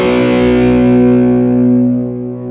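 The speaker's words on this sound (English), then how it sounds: "So the whole tune is basically just straight into the amp with that my delay sound, a little bit of reverb actually also from the other Strymon" A sustained electric guitar chord rings through a Fillmore 50 amp with a narrow open-back single-12 cabinet, lightly distorted with delay and reverb, loud and steady before slowly decaying.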